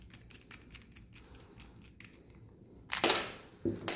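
A small screw is turned out with a simple Phillips screwdriver, giving faint, quiet ticking clicks in an irregular rhythm, then a couple of louder scraping rattles as the screw comes free, close up in a quiet room.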